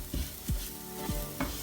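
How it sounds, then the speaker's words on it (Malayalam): Ground masala paste being stirred and heated in a pressure cooker for a kangaroo fry, a soft steady sizzle broken by several scraping stirs of the spoon, close and fairly quiet. "നമ്മൾ അരച്ച മസാല ഈ കുക്കറിലിട്ട് ഒന്ന് 2 മിനിറ്റ് നമ്മൾ ഒന്ന് ചൂടാക്കുകയാണ്"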